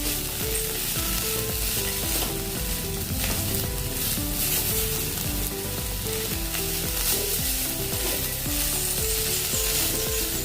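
Onion, coriander, cashews and black pepper are stirred in a hot, sizzling pan, giving a steady loud fry with scraping and clinking from the utensil. Nobody speaks.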